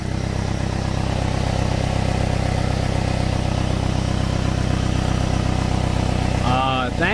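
An idling engine with an exhaust leak from a cracked manifold puts out a loud, close, rapid ticking chug, steady throughout, with someone talking over it.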